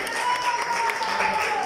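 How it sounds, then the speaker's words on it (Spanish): A crowd applauds the winners at the Viña 2020 festival stage, a brief steady burst of clapping with a faint tonal whine and some voices mixed in. "Y le damos un aplauso a los ganadores,"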